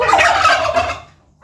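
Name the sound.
bronze turkey gobbling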